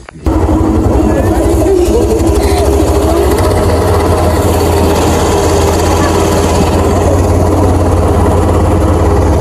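A boat's engine idles loud and close in a steady low, rumbling drone that runs unbroken throughout, with faint voices mixed in beneath it.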